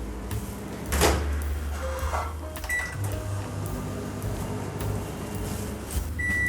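Oven beeping when eggless vanilla cookies finish baking at 170 degrees: a few short electronic tones near the end, after a sharp clunk and some clatter, all fairly quiet with no talking.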